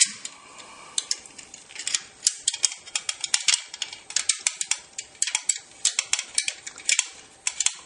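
Small metal parts being tightened during installation of a CB Draco firearm, producing a close run of quick ratcheting clicks in uneven bursts and no speech.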